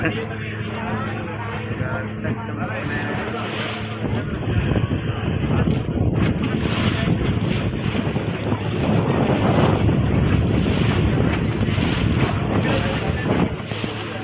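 A boat ride on open water in Karimnagar, with steady wind buffeting and broad rushing water and spray noise that swells after the first few seconds, as water splashes over passengers. Voices talk through it.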